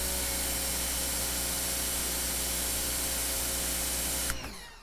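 Prymax electric pressure washer running with a 25-degree spray tip, a loud steady hiss of water over a constant motor hum that cuts off abruptly near the end.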